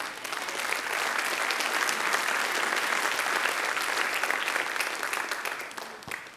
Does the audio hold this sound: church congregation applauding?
yes